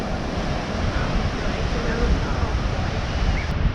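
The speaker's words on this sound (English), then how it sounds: "Wow, we're getting cross waves." Continuous roar of choppy cross waves breaking nearby at Mission Beach, San Diego, a dense wash of water noise with wind buffeting the microphone and no clear gaps.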